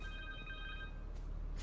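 Cell phone ringing in the Spider-Man 2 video game, a steady electronic ring tone repeating over a dense, loud game soundscape, without talk.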